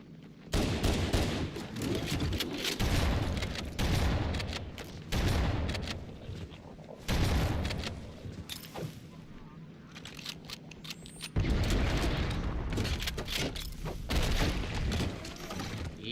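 Rockets fire and explode over and over in Halo: Combat Evolved on Legendary difficulty, heavy booming blasts and gunfire layered thickly with only short dips in between, and occasional speech underneath.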